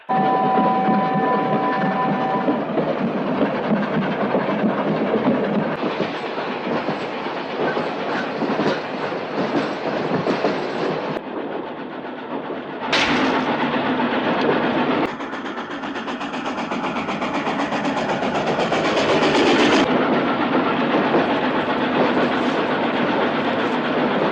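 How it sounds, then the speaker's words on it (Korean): A train rumbles steadily along the rails for a long stretch, loud and close, with rhythmic clacking and a few abrupt shifts in the noise. "그렇게 리얼 설국 열차는 우랄 산맥으로 길고 힘든 여정길을 달립니다."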